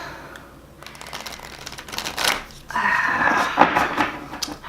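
Large tarot cards being shuffled by hand, with a run of dense papery riffles and slaps, close and fairly loud, that briefly pauses and then resumes with no talking.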